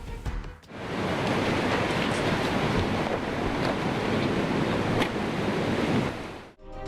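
A loud, steady roar of a waterfall swollen by torrential downpour fills the scene, broad and unbroken, with wind buffeting the microphone. No voices are heard.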